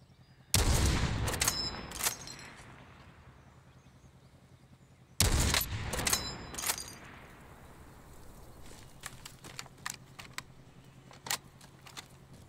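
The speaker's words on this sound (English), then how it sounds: "Somebody's shooting at me." Gunfire in the Call of Duty Warzone battle royale game: two loud bursts of shots close by, each a short cluster of sharp cracks with echoing tails, followed by a scatter of fainter, more distant shots.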